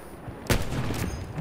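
Gunfire in the World War I shooter Battlefield 1 sounds as a single sharp, loud shot, followed by a second fainter report a moment later, over a low background rumble.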